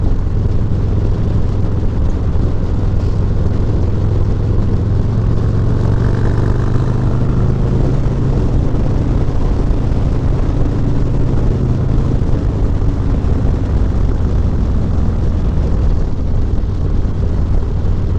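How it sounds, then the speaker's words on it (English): A Harley-Davidson motorcycle riding a quiet new road, its engine a loud, continuous low rumble close to the microphone with steady wind buffeting throughout and no talk. "nice to get a bit of appreciation on the bike for the way that it sounds too"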